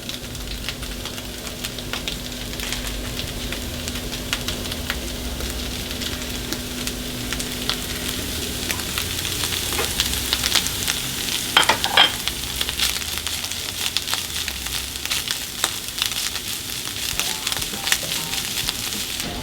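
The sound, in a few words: minced meat frying in pan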